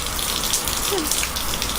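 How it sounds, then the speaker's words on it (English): Steady rain falling outdoors in Las Vegas, a dense continuous hiss like a running shower, close and fairly loud, with a faint voice briefly audible underneath. "It's like there's a shower on out here."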